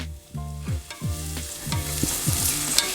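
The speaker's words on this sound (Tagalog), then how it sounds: "maggisa na tayo ng onion, garlic, and ginger" Onion, garlic and ginger sautéing together in a pan before chicken liver is added, a bright steady sizzle with repeated scraping stirs of a utensil against the pan, close up, no talk.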